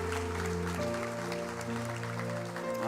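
Congregation applauding during a Portuguese-language church service, a steady wash of clapping throughout with sustained organ or keyboard chords underneath.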